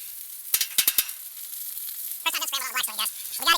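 Scrambled eggs sizzle on a Blackstone flat-top griddle, a steady soft hiss broken by a few sharp pops early on and bursts of louder crackling toward the end, close and alone without talk.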